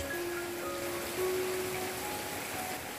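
Steady rain falls as an even wash of hiss, with faint thin tones drifting beneath it.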